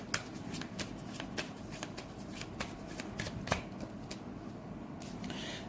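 A deck of tarot cards is shuffled by hand in a quiet room, giving a soft continuous riffling with sharp little flicks and snaps scattered through it, close and gentle, with no voices.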